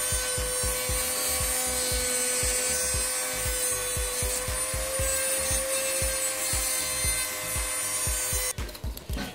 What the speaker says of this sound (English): I'm just going to use the Dremel now to clean them and tidy the shape of it